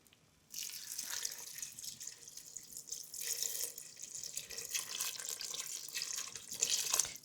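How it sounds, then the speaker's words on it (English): Water pours steadily into a cooking pot over onions with a teaspoon of salt, a continuous splashing gush like a running tap that starts after a brief pause and lasts several seconds, close and fairly loud, with no talking. "And then I'm going to cover it with some water."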